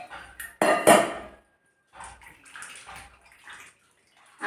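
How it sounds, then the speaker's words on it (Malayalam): Water is poured into a cooking pot in a few separate splashing bursts, the first loud and full, then shorter, lighter pours after a brief pause. "ഇതിനനുസരിച്ചുള്ള വെള്ളം ഒഴിച്ചെടുത്താൽ മതിയല്ലോ"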